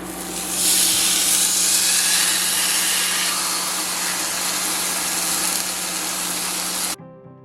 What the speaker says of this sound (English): Alright, so I'm gonna let this sear.